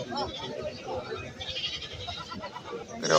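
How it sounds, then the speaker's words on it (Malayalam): Billy goats bleat at a large goat market in Kerala, several calls rising amid a busy crowd of talking voices, with a louder, closer bleat near the end. "ഇവിടേക്ക് വലിയ മുട്ടനാടുകളാണ് നിൽക്കുന്നത്"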